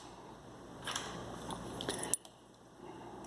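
Keys jangle in short metallic bursts at close range, ending in a sharp clink, while someone works a drug store padlock with a Sparrows shank bypass tool.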